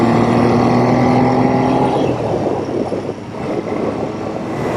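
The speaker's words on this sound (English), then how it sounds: "The sound this bike makes is amazing" A 1975 Triumph Trident T160 motorcycle engine drones loudly and steadily while the bike is ridden. Its tone shifts and roughens partway through as the revs change, heard up close with no voices.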